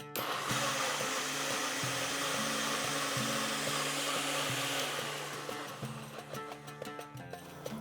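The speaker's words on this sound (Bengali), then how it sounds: "এরপরে আমি এটাকে এইভাবেই বেটে নেব।" A mixer grinder whirs loudly and steadily as it grinds spices and green chili, its motor pitch shifting in stages before the sound fades and rattles near the end.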